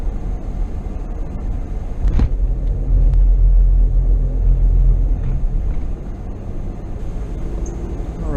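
Steady low road rumble of a car driving along, continuous and fairly loud throughout with no talking, on the way to fish the Gunpowder River.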